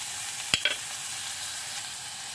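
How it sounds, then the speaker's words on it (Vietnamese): Onions fry in a pan with a continuous bright sizzle and hiss, broken early by a couple of sharp clinks from a utensil. "Khoảng chừng vài giây thì mình bắt đầu bỏ hành tây vô. Đừng có chiên cho cháy nha"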